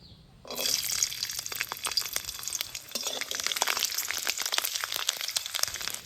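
Whole garlic cloves drop into hot mustard oil in a wok and a loud sizzle bursts out abruptly, then crackles and spits steadily at close range with no voices.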